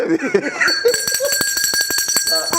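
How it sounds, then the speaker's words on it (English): A handheld bell rung rapidly in a television studio during a panel discussion, a fast series of bright metallic rings repeating for about two seconds, loud and close, following a brief stretch of someone speaking. "Let me ring that bell, please."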